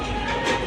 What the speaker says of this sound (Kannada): ಮೆಟ್ರೋ ಟ್ರೈನ್ ಹೋಯಿತು